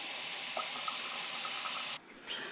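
Water pours steadily from a tap into a pressure canner, a loud continuous splashing rush that cuts off abruptly near the end, leaving a faint brief clatter.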